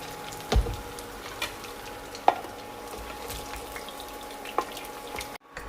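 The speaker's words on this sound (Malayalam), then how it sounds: "മീൻ തിരിച്ചും മറിച്ചിട്ട് ആവശ്യത്തിന് മൂത്തിട്ടുണ്ട്" Fish fry in hot oil with a soft, steady sizzle, punctuated by a few clinks and scrapes as pieces are scooped out; close and fairly quiet, with no talking.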